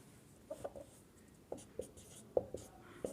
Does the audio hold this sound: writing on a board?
yes